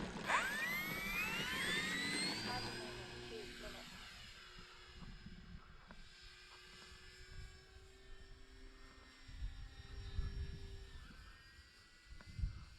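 An E-flite Air Tractor radio-controlled model plane flies over a small airstrip in the evening, its electric motor whining loudly at first and then fading to a distant drone under outdoor wind noise.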